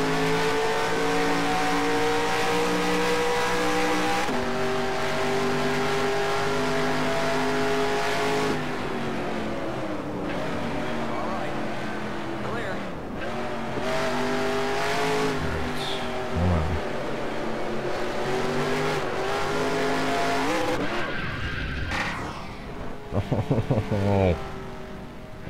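Stock race car in NASCAR Racing 2003 at Watkins Glen, engine revving loud and steady with pitch drops at gear changes, then sputtering and blipping near the end; a voice talks over it at times.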